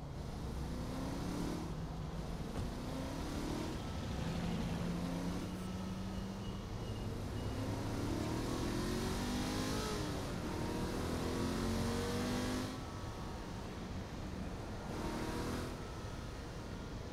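Car engine in Saints Row: The Third drives steadily, its hum rising and falling through gear changes and revs over constant road noise, fairly quiet and continuous with no talk.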